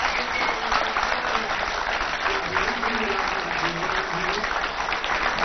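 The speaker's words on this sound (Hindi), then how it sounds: "तो ये तो स्टूडियोज की तालियों की गड़गड़ाहट है" Studio audience applause for a guest poet on a television interview show: a steady, dense roar of many hands clapping throughout, with a voice faintly audible underneath.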